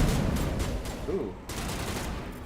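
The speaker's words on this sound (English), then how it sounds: "I kind of like this sniper rifle. Multiple shots." Sniper rifle fire in the Mass Effect video game: a burst of rapid repeated gunshots in a dense volley, with game sounds underneath and no clear speech.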